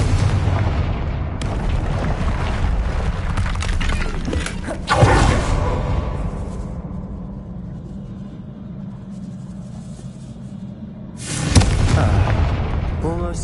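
A Confringo blasting spell goes off in a Hogwarts video game, giving deep booming blasts around five seconds and again near the end, over a continuous low rumble with talk in between.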